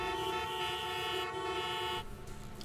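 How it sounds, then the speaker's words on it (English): In the animated series Helluva Boss pilot episode, a car horn blares in one steady, loud, continuous tone for about two seconds, then cuts off, leaving a dull background hum. "Honk."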